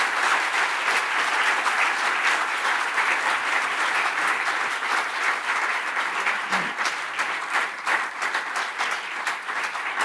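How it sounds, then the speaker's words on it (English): An audience at a tech talk event on trust in AI claps for the speakers, a dense, even wash of applause that holds steady throughout without pause. "A big round of applause for our speakers today."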